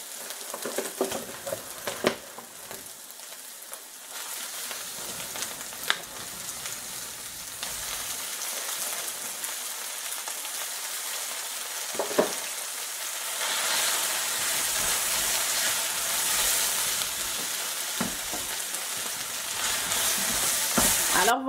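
Onion and spinach fry in a pan with a steady broadband sizzle that swells louder in the second half, broken by a few sharp clinks and stirring scrapes, with no talking.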